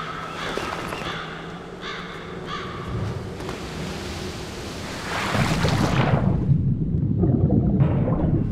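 Crows caw repeatedly over a steady ambient wash in the video game XIII, then heavy ocean waves surge in loudly around a boat and roll on for the final seconds.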